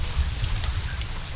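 Rain falls in the zoo-building game Planet Zoo, a soft continuous patter and hiss with a low rumble beneath, steady and unbroken with no voices.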